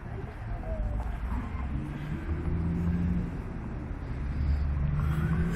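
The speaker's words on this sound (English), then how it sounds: "We're driving through Oklahoma, heading to Oklahoma City." A car drives along a highway through Oklahoma, heard as a steady interior road rumble with low engine drone that swells slightly toward the end.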